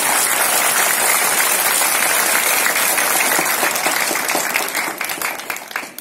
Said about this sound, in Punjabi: ਇਹ ਕਰੀ ਜ਼ੋਰਦਾਰ ਤਾੜੀਆਂ ਇਹਨਾਂ ਦੇ ਕੰਮ ਦੀ